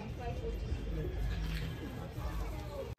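Soft cooing of a Sakdum pigeon amid a busy, noisy background with a hum of voices and general bustle, fairly steady throughout.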